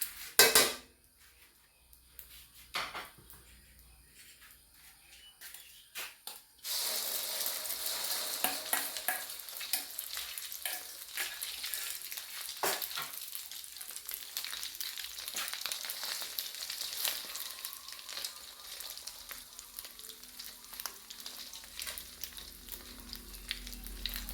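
Eggs sizzling in a hot pan for a sunny-side-up fried egg, a steady loud crackling fry that starts abruptly after a few seconds of quiet clinks and continues throughout, with occasional utensil scrapes.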